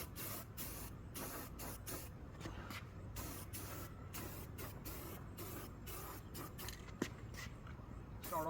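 An aerosol spray can lays a second coat of paint over repaired welds in a rust repair job, its steady close hiss running continuously with brief rhythmic pulses as the nozzle sweeps back and forth.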